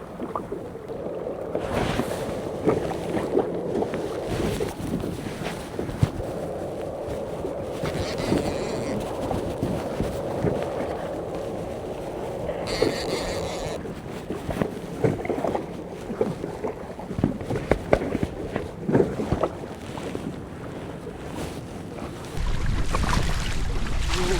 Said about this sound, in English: It's not the best day to go kayak fishing. As you can see, it's quite rough out here.